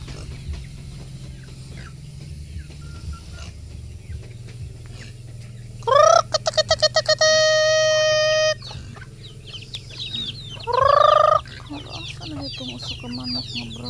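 Backyard chickens cluck and a rooster gives a long, loud crow in the morning, with a shorter call moments later, heard nearby over steady outdoor background noise.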